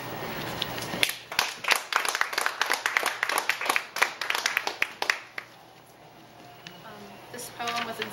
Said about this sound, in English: I guess you can clap if you want